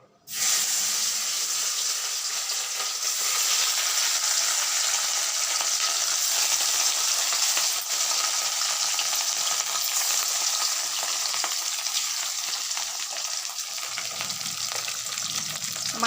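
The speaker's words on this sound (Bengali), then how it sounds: "মাছগুলো ভাজা হচ্ছে" Fish sizzles steadily in a hot pan at home, a dense, continuous frying hiss and crackle that stays loud throughout, with a low rumble joining near the end.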